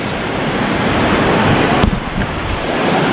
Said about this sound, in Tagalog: ganyan kalakas yung current dito